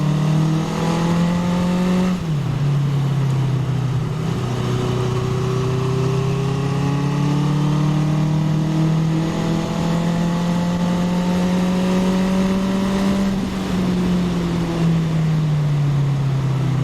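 A 1981 Honda CB750K motorcycle engine hums steadily while riding, its pitch rising and falling smoothly through gear changes, with wind rush behind it and no talk.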